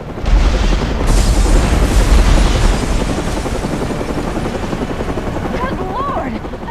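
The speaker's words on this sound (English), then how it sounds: "there has just been a massive explosion" Heavy low rumbling boom of an explosion in the Batman: Arkham Origins game, loud at first with a deep roar that gradually decays into a lingering hiss.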